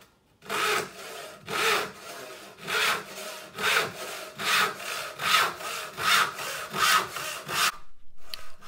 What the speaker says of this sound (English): This is my cross-cut 10-inch saw made by Shane Skelton.